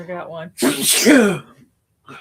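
One person lets out a single loud, close sneeze with a sharp burst, framed by brief talk just before and after.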